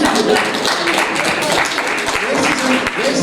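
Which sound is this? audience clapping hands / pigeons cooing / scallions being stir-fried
audience clapping hands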